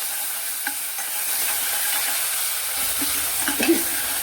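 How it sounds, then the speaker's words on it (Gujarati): Ginger, chili and garlic paste with coriander sautéing in a pan, a faint steady sizzle with a few soft stirring scrapes and clicks near the end. "આદુ મરચાં અને લસણ પેસ્ટ અને ધાણા બધું એકની સાથે જ નાખી અને પેસ્ટને સારી રીતે એકાદ મિનિટ માટે ચેડવી લઈશું"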